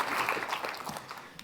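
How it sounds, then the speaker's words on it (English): A conference audience at a climate and health plenary claps in a dense, steady burst of applause that fades slightly over a second and a half. "Can we please get a big round of applause, everybody, for Robert Metzke?"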